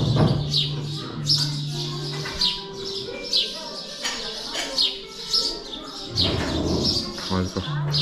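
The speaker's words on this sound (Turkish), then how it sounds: "İçeride kuş sesleri müthiş." Many birds chirp and tweet continuously in an echoey indoor space, with cooing mixed in and people talking underneath.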